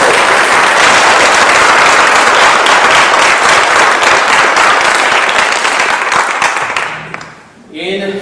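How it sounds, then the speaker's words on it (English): Audience at a spelling bee giving a loud, dense round of applause that fades out near the end, followed by a voice speaking. "Let's give all our contestants another round of"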